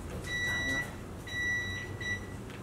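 A timer in Minecraft on Wii U beeps in three short bursts of steady high electronic tones, faint against a low background hum.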